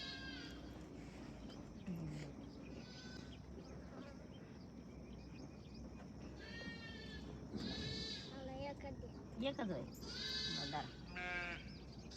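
Several sheep bleat at intervals, some close and some farther off, over a low background murmur of voices, as the flock grazes.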